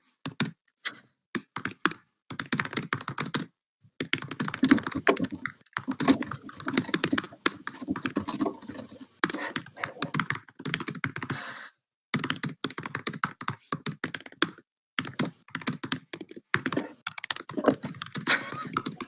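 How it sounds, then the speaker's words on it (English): Rapid keyboard typing in bursts of clacking keystrokes separated by short pauses, close and fairly loud, with no voices. "And I also want to give a shout out to the Kichi typing ASMR."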